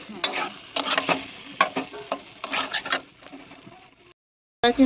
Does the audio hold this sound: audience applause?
no